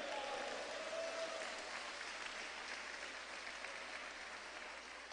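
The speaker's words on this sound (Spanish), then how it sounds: "¿Cuánto da un aplauso al Señor?" A church congregation applauds steadily, a dense wash of clapping from many hands in a large room, continuous and even for the full length, with a faint voice briefly rising above it at the start.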